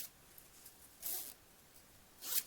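Two quick zipper pulls on bag zippers with strong, sturdy teeth and pulls, each a short bright rasp about a second apart, close and fairly quiet with no talk.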